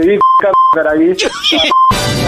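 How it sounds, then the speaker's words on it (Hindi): Phone-call disconnect beeps, three short, clean electronic tones spaced through the clip and cutting between bursts of a man's speech. "दिन ने फोन काट दिया"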